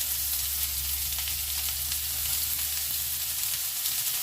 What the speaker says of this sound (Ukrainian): обсмажування цибульки